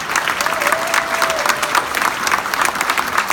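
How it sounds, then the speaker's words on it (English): At an Irishwoman of the Year event, an audience breaks into loud, dense, steady applause that fills the room, with a faint voice briefly audible underneath. "And I would like a round of applause for them."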